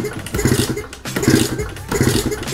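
A two-stroke Kawasaki Ninja motorcycle that had sat unused for two months sputters to life in three rough, clattering bursts of engine noise separated by brief dips, heard up close.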